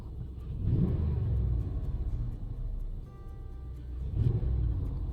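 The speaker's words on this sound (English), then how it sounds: "when you open the throttle, you notice a nice throaty sound" A Ram 1500 pickup fitted with an Evil Energy cold air intake revs with a deep, throaty rumble that swells and eases, rising again near the end, heard steadily up close with no talking.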